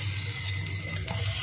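Onion and chillies sizzle in a pan as grated boiled potato goes in, a continuous close frying hiss with a low steady hum underneath and faint stirring.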